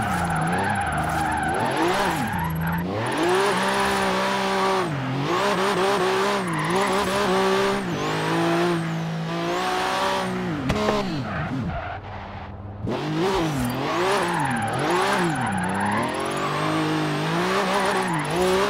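A car drifts in the racing game Forza Horizon 3, its engine revving hard and rising and falling in pitch under long, continuous tire squeal, loud and close, with one brief drop in intensity midway.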